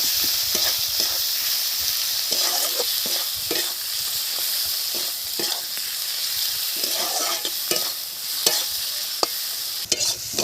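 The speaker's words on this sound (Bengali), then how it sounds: "মশলা কষা হয়ে গেছে" A spice paste of tomato, salt, turmeric, chili powder and a few grains of sugar fries loudly in a pan for a Bengali fish curry, a steady sizzle broken by repeated scraping stirs, with no voices.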